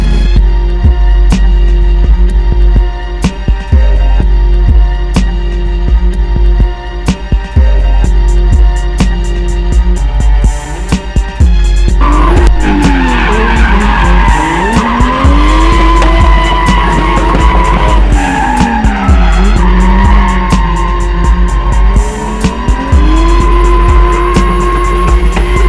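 A Nissan S13 drift car with a 2J-block, 1J-head engine roars at high revs while its tires squeal in long sliding howls, loud and close, the engine pitch rising and falling through the drift.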